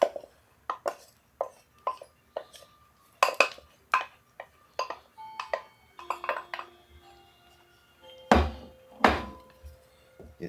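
A spoon scrapes and knocks against a pot while corn is stirred into a beef chili, giving irregular clinks and clacks with a few louder metallic bangs near the end, close and alone without talk.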